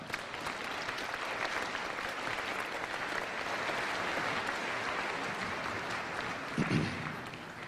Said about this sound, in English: Please give all of these folks a round of applause.